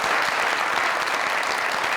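Dense, steady applause from a studio audience at a comedy talk show, loud and continuous throughout with no voices over it.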